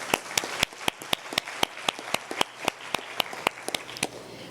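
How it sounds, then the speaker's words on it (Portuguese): Applause for a conference panel on telework: crisp, fairly regular claps that sound like a modest group, close and distinct, with a light wash of clapping beneath the sharper strikes. "Uma salva de palmas a esse painel de peso."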